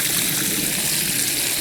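Water rushes steadily through a gold-prospecting sluice box lined with miner's moss over blue matting, a continuous close splashing stream with no talk.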